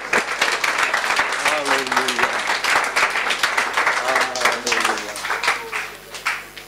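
Church congregation breaking into warm, sustained applause, many hands clapping at once with cheering voices and a sung or shouted tone woven through, fading slightly toward the end.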